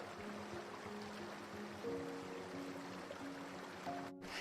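A narrow waterfall stream drops about 30 meters into a shallow pool in Bali, giving a constant, fairly faint rushing wash with soft tonal sounds over it.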